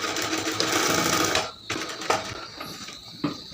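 Sewing machine running steadily while stitching a trouser ticket pocket, a loud continuous whir that stops, then resumes in two short bursts near the end.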